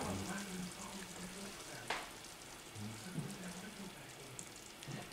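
Gravy for creamed chipped beef gets a quick stir in a pan: a soft, low sizzle with a few light scraping strokes and one sharper knock, fairly quiet.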